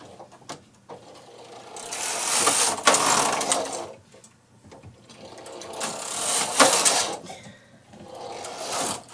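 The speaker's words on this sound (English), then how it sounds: "let me just push those needles back" A Singer-type knitting machine has its needles pushed back by hand in close, repeated rasping sweeps, each rising and falling in loudness, separated by brief quiet moments.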